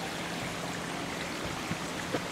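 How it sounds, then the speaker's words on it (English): A low, nearly dry creek flows along a wooded trail, making a soft, steady trickle with no one speaking. "The creek is really dry right now though, right? But you can hear it flowing."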